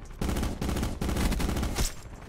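Automatic weapon fire in a first-person shooter game: continuous rapid shots in several sustained bursts with short breaks, loud and near, ending in a brief mechanical clatter as firing stops.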